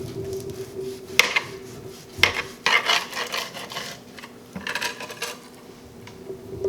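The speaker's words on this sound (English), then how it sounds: "let's go ahead and cut a couple slices in this bad boy" A knife slicing through a rotisserie pork loin cooked on a Kamado Joe Joetisserie, giving several close, crisp cutting and scraping strokes against a board, separated by short pauses, with no talk.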